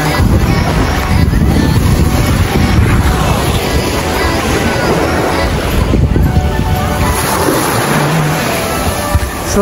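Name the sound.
sea waves at a white sand beach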